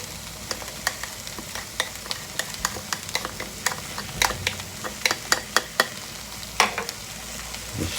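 Lamb mince masala with chopped coriander stirred in a pan, spatula scrapes and taps ticking out a steady rhythm over a constant low sizzle, close and fairly loud, no talking.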